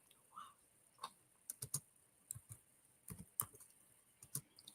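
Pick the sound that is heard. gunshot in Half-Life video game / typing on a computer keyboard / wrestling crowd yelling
typing on a computer keyboard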